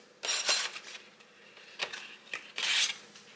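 Cucumber slices tipped into a bowl for a cucumber ranch salad, making a few brief wet clatters and scrapes close by, with one burst at the start, small knocks in the middle and another burst near the end.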